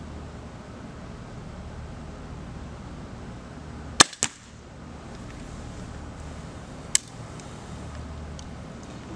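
A Center Point Sniper Elite Whisper 370 crossbow fires a bolt at a target 20 yards away: one sharp, loud snap, then a quick second crack and a later faint tick over a steady outdoor hiss.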